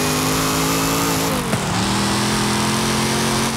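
The supercharged, race-tuned 1968 Pontiac Firebird in Forza Horizon 5 holds a loud, steady engine drone, with a quick dip in pitch as it shifts midway before settling back into a sustained roar.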